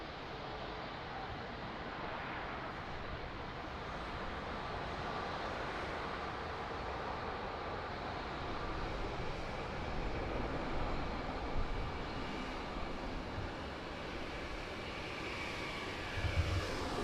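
Large jet airliners taxi at Lisbon Airport, making a continuous broad engine roar and rumble heard from a moderate distance. The sound stays steady and grows slightly louder toward the end.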